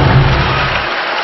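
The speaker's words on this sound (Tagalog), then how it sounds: "The crowd wakes up now." Volleyball arena crowd at a collegiate match roaring and applauding, a loud, dense wall of cheering that swells at the start and then holds steady.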